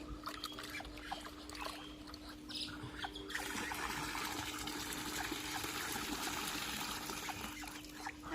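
Oil-cake water is poured at home, a quiet trickle that turns into a steadier flowing gush partway through, with faint background noise and no talk.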